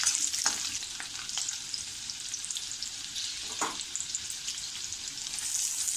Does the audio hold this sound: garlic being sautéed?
yes